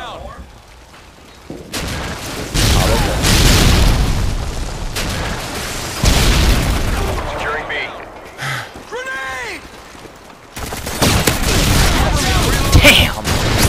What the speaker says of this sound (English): Enough with the noob tubes and flash grenades!